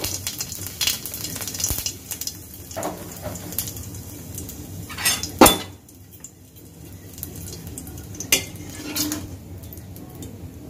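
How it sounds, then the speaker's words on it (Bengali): Cumin seeds crackle and sizzle in hot soybean oil, a busy close fizz with sharp pops and a few loud metallic clanks of a pan and utensil. "তেল গরম হয়ে গেছে, জিরা ফোড়ন দিয়ে দিলাম।"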